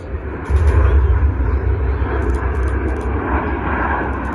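Jet aircraft of a nine-plane airshow formation roar overhead as a loud, sustained, rumbling engine wash while the group flies a roll together, steady from start to finish with no voices.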